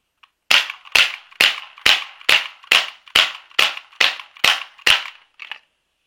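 A Smith & Wesson M&P 40 pistol fires eleven sharp shots in a steady, rapid rhythm, each crack loud and close with a brief decay, with no talking.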